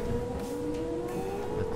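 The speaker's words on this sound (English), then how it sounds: "came back so close again that the siren went off" A tornado warning siren from the Minecraft Localized Weather Mod wails in a sustained, steady tone, loud and alone for the whole short stretch.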